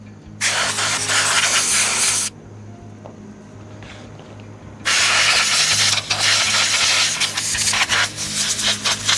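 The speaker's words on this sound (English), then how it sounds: "just blowing that out with an air compressor gets rid of that sawdust and everything that's built up in there" Compressed air from an air compressor blasts sawdust out of a chainsaw and its air filter, two loud hissing bursts of about two and four seconds separated by a quiet pause.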